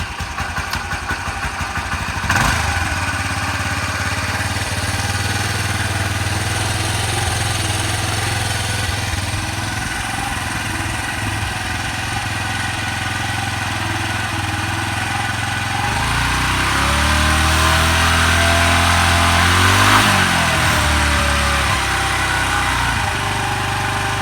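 A Honda Elite 150 scooter engine with an electric choke cranks and catches, then settles into a steady idle that holds throughout, with the pitch shifting partway as the revs change.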